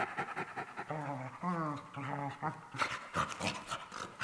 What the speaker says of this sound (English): It's not easy to find a positive sound, a vocalization in case of dogs.